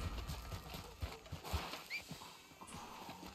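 In a video game, hooves clop in an uneven rhythm close by, and a horse gives a short whinny partway through, all fairly quiet.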